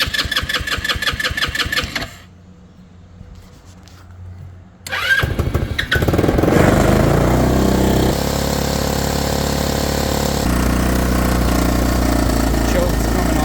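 A Motobravo Roma 150cc scooter running on an old carburetor sputters, then cuts out into near quiet for a few seconds, and catches again into a loud, steady running drone at close range.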